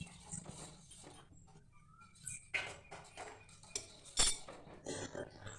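A spoon clinks and scrapes against a pot while caramel is stirred into boiled milk for mishti doi, with quiet, intermittent strokes and one sharper knock, heard faintly in a quiet room.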